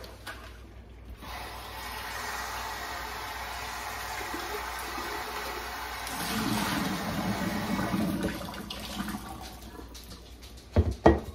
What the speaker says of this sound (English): And I will rinse out the jar as well.